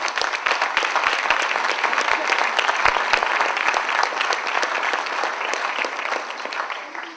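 Audience applause fills a gala dinner hall, a dense, steady wash of many hands clapping close and loud for several seconds before tapering slightly at the end.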